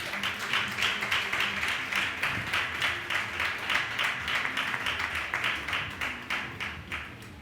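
Congregation clapping in a church during a French-language sermon, a dense steady patter of many hands with rhythmic beats running through the whole stretch, fairly close and lively.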